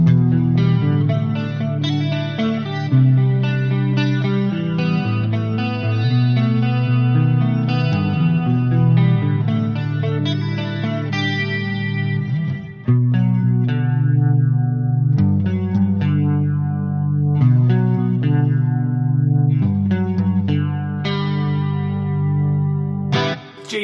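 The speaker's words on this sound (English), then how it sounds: "And then the clean tone, let's hear it" Clean-tone electric guitar from an Axe Fx III preset, modelled on a Jazz 120 amp, plays chords and picked notes with chorus and echo, loud and alone, with a brief gap near the middle.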